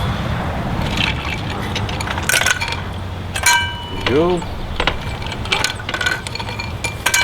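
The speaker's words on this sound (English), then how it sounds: "Next step is to top up our tumblers with some ice cubes." Ice cubes dropped into glass tumblers while making a classic white-rum mojito, giving a few scattered bright clinks and rattles under steady background noise, with someone speaking briefly.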